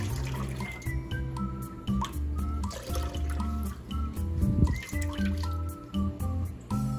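Starchy water from acorn flour squeezed in a towel drips and trickles steadily into the liquid below, with splashy drops close up and no voices.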